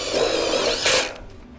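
A power tool drives a screw into the steel frame of an Absco double roller door garage shed, a short high whirring burst about a second long that rises at the end, then cuts off.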